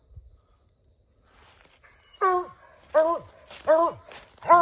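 An old coon dog barks at an animal up a tree, four loud, ringing howl-like barks at a steady interval, each one strong and close, following a brief quieter stretch.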